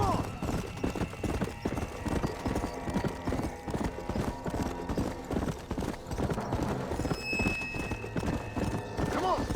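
Horse hooves clip-clop in a steady trotting rhythm in the Western video game Red Dead Redemption, a whinny near the end, with someone talking over the steady hoofbeats throughout.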